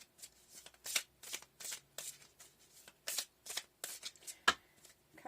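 Tarot cards are shuffled close up, a series of quick riffling bursts in an uneven rhythm, with no talking.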